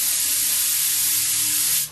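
An airbrush sprays plain water through to clean it between paint colors, giving a steady, close, hissing jet that runs unbroken and then cuts off at the end.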